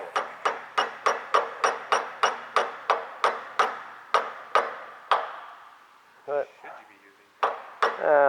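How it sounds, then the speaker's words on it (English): A sledgehammer taps a part onto a transmission shifter during an MT82 shifter kit install, making a quick, steady run of about fifteen sharp metallic knocks with a ringing ping, then a few scattered taps. "he's using a sledgehammer to drive a tech."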